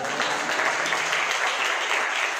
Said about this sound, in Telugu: చప్పట్లు కూడా దేవుని స్తోత్రం.